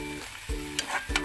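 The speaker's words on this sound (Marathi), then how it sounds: "कांदा छान भाजून घेऊया।" Onion frying in a pan: a brief, close sizzle with a couple of quick stirring scrapes.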